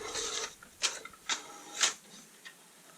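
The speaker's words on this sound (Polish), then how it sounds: "Jeszcze raz raport o stanie drukarki" An HP DeskJet Ink Advantage 6525 inkjet printer prints a status report, giving a series of sharp mechanical whirs and clicks as the print carriage moves, about four distinct bursts over a quiet background with no talking.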